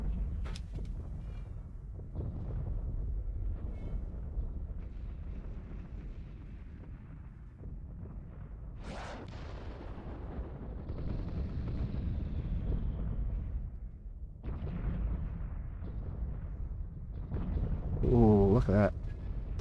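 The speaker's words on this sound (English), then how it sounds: "Good set of explosions there." Space battle explosions from the video game Homeworld 2 with the Fairy Empire mod: repeated booming blasts and rumbling bursts spread across the scene over a constant low roar of combat, with a brighter burst and whooshing effects near the end.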